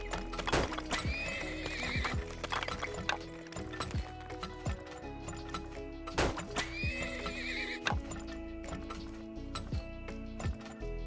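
Horses in a video game whinny and neigh loudly twice, rising calls standing out over steady clip-clop hoofbeats and a busy background bed of game sound.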